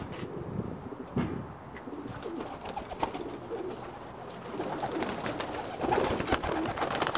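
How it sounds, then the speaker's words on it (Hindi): Paired pigeons in a loft cooing repeatedly in soft, low rolling calls, several birds overlapping at close range with light rustling and occasional wing movement, no talk. "इधर सिर्फ जोड़े वाले कबूतर हैं, ये दिखाता हूँ मैं आपको"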